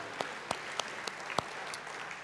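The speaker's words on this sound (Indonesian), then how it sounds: "Beri tepuk tangan bagi dia, haleluya" Scattered handclaps from a church congregation during a sermon, a handful of separate sharp claps spaced through the moment rather than a full ovation, heard in a roomy hall.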